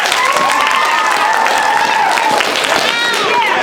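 A lively crowd at an improv comedy show claps and cheers loudly near at hand, with shouts and whoops riding over dense applause and voices mixed in throughout.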